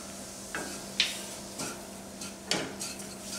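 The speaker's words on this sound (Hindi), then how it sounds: "अच्छे से इसे मिक्स कर लेंगे।" All-purpose flour is stirred into sautéed ingredients in a pan while a white and red sauce pasta is being made, with a spoon clinking and scraping against the metal at irregular intervals over a low background hum.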